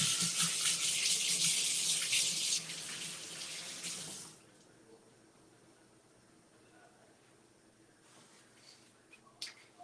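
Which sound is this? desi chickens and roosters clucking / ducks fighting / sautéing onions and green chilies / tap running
tap running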